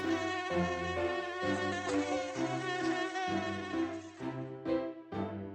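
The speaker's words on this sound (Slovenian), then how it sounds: "Komar je mimo priletel in svojo pesmico zapel." A mosquito buzzes in a thin, sustained whine that wavers in pitch, steady and faint with no talking.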